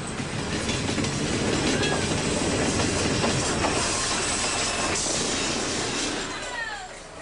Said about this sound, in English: Representing the over-commercialization of this holiday will be a 115-ton diesel locomotive.